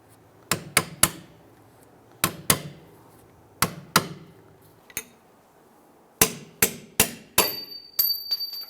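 Hammer tapping an axle nut on a Ford Explorer rear CV axle, a dozen sharp metallic knocks in quick groups of two and three, close and ringing, with quiet between groups.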